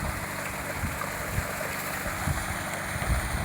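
Water gushing steadily from a pipe fed by a 5 HP motor pump on farmland, a continuous broadband rushing and splashing with low gurgling thumps, near and even throughout.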